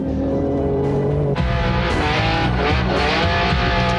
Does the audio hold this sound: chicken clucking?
no